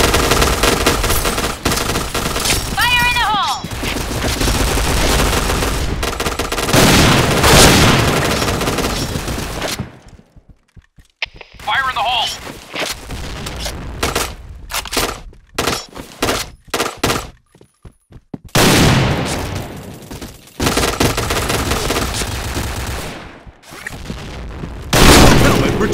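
Grenade blasts and bursts of automatic gunfire from the Point Blank shooter game's Downtown map, loud and dense rapid shots and booms, with stretches of near silence between volleys and brief in-game voice callouts.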